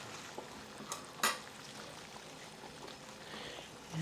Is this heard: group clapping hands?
no